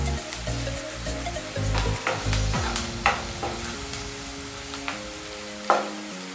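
Chopped onions sizzle and fry in a pan for a dhaba-style Punjabi kadhi, with repeated scraping stirs and clinks of a spoon against the metal over a steady hiss, close and alone.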